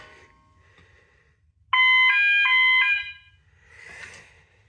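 A fire alarm system set off with an MBG10 pull station sounds a loud, piercing electronic tone for about a second, stepping between pitches, then cuts out. A faint hiss of background noise follows, with no one speaking.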